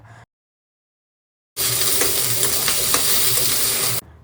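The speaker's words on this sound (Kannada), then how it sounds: "ಫಸ್ಟು ಬಾಣಲಿಗೆ ಒಂದು ಸ್ವಲ್ಪ ಎಣ್ಣೆ ಹಾಕಿ ಎಣ್ಣೆ ಕಾದಮೇಲೆ ಅದಕ್ಕೆ ಖಾರಕ್ಕೆ ಎಷ್ಟು ಬೇಕೋ ಅಷ್ಟು ನೋಡಿಕೊಂಡು ಹಸಿರು ಮೆಣಸಿನ್ಕಾಯಿ ಆ್ಯಡ್ ಮಾಡ್ಕೋಬೇಕು" Green chillies frying in a pan of hot oil: a loud, steady sizzle that bursts in after a brief silence and holds evenly for about two and a half seconds before cutting off.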